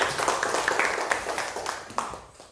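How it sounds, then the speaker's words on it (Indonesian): Audience applause in an Indonesian classroom presentation session, a dense patter of many hands clapping at moderate loudness that fades gradually over a couple of seconds. "tepuk tangan dulu"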